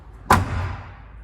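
A 1970 Chevrolet Nova door swings shut with a single solid, loud thud close by, followed by a brief fading resonance and no talk.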